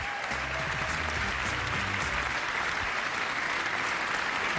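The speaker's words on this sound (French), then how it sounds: "Des applaudissements très nourris pour Eva" An audience gives warm, sustained applause for an award-winning entrepreneur at a business contest ceremony, dense steady clapping throughout, with brief low music at the start.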